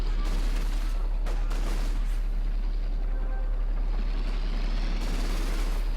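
Bursts of rifle and machine-gun fire in a Company of Heroes 2 one-on-one match, crackling in short clusters over a constant low battlefield rumble and hum.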